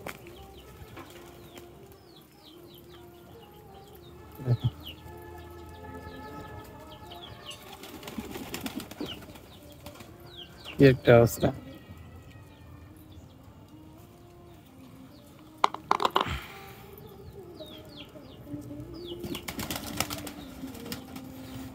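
Pigeons crowding in to be fed chickpeas give a few short bursts of wing flapping against a quiet background, and a voice speaks briefly.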